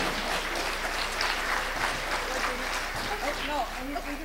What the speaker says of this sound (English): And applause to all of you who are here today.